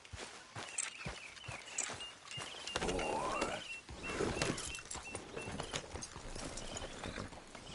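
Horse hooves clip-clop at a riding pace in Red Dead Redemption 2, a rhythmic run of close hoof falls with a brief whinny or snort in the middle, under a soft outdoor background.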